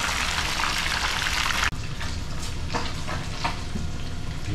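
Food fries in hot oil with a dense, steady sizzle and crackle that drops slightly after a sharp break, continuing with scattered pops; loud and close with no talking.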